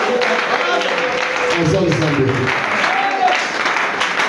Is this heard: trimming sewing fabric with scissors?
no